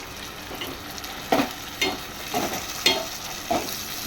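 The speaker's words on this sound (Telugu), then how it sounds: "పాలకూర పేస్ట్ వేసుకొని ఫ్రై చేద్దాం" A paste of spinach and green chili frying in a pan, a continuous sizzle punctuated by repeated scraping stir strokes at a steady rhythm, close up, with no talking.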